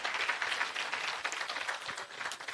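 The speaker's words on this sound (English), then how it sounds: "I think she deserves another round of applause." An audience at a research and innovation management event in Eswatini gives a presenter a sustained round of applause, a quiet, even, dense clatter of many hands clapping throughout.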